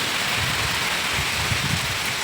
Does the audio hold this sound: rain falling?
yes